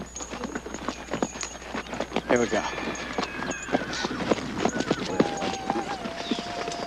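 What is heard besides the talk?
horses walking, hooves clip-clopping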